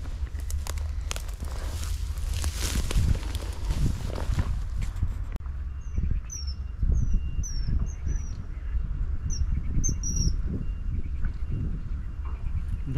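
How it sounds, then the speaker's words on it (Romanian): Birds chirp outdoors on a riverbank while fishing for chub, thin repeated calls in the second half over rustling, footsteps and low handling noise close by. "Stau și ascult ciripitul păsărilor."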